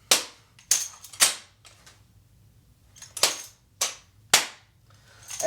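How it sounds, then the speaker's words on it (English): Sharp, loud slaps ring out as a rifle is driven into the shoulder during an armed exhibition drill, six distinct hits in an uneven rhythm with short quiet gaps between them. "that circular motion of the rifle coming into the shoulder is what drives the intensity"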